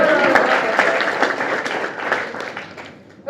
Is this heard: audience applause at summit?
yes